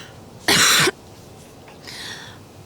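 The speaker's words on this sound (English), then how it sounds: "She let out a dusty cough." A single harsh, breathy cough bursts out close by, followed by a softer raspy throat-clearing rasp.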